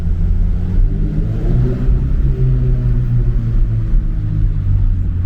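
Continuous low engine drone from a 2022 Subaru BRZ driving along curvy mountain roads, steady and loud throughout with slight swells in pitch and no talking.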